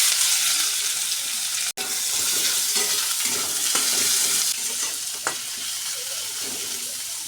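Chopped onions frying in hot oil for an amudi fish curry make a loud, dense sizzle, stirred now and then with soft scraping, steady throughout with one brief dropout.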